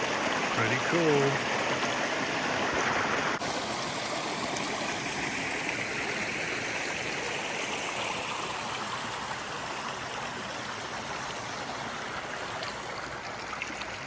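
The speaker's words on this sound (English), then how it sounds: "And the babbling brook." A babbling brook flows steadily through a forest along the west rim drive at Crater Lake, Oregon, a continuous broadband rush of water close by and loud, with a brief voice near the start.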